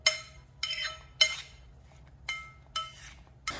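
Small shooter glasses clink against each other while being filled with chana chaat masala, giving a series of about six light, bright taps spaced unevenly, close and quiet with nothing else in the background.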